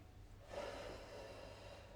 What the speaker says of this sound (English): Okay, big breath in.